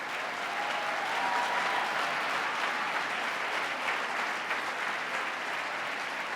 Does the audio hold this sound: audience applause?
yes